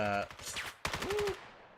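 Gunfire in the VR shooter VAIL sounds as rapid, closely spaced bursts of shots, loud and close, with a brief pause between two volleys.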